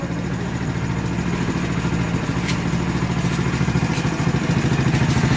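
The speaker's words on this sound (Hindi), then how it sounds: "जैसी ही आवाज़ सुनी इसने बाइक की" A motorcycle runs close by with a loud, steady, rumbling engine beat that continues without a break, with no talk over it.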